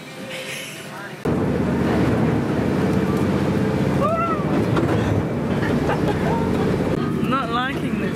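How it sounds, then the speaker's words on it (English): A ferry's engine drones loudly and steadily on choppy water, with wind buffeting the microphone and people talking over it. "We're on the boat."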